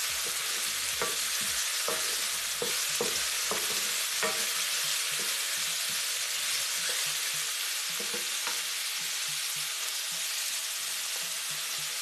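Carrots fry in a pot as the base for Ghanaian jollof, a constant hissing sizzle held at an even level throughout, dotted with small crackles and pops, with no talking.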